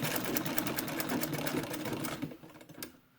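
A domestic treadle sewing machine sews across the pleats of a fabric face mask, a steady rapid mechanical clatter running for about three seconds before slowing and stopping.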